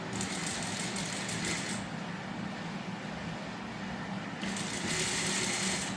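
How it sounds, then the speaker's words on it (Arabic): A sewing machine stitching fabric, a continuous fast whirring hum with a fine rhythmic clatter that eases briefly in the middle and then picks up again, close and steady with no talk. "بس أول شي راح أخيط من النص وبعدين أخيط الأطراف منه"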